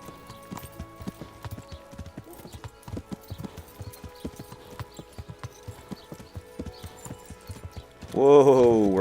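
Horse hooves clip-clop at an unhurried walk in Kingdom Come: Deliverance, a quiet uneven patter that ends in a sudden loud neigh.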